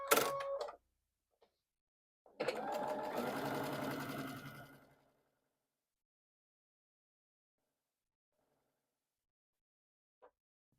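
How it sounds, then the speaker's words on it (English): A sewing machine stitches a quarter-inch seam on a triangle quilt block, with a short opening burst, a pause, then a steadier run of rapid mechanical stitching lasting about two and a half seconds before stopping; the rest stays quiet. "And you're going to use a 1/4 inch seam and sew your side on."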